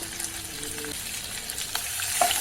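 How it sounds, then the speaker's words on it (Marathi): Sliced onions with cumin seeds and garlic cloves fry in hot oil for a restaurant-style paneer dish, giving a steady, soft sizzle with a few light stirring scrapes and no voices. "दोन मोठ्या आकाराचे कांदे मी पाच स्लाइस करून घेतलेले आपण भाजून घेऊया"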